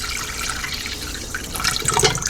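About two and a half cups of water poured into the bottom of a pressure cooker, a close steady splashing pour that grows a little louder and more bubbly toward the end, with no talk.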